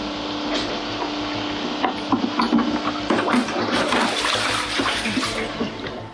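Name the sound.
water sloshing while bailing out a leaking boat hull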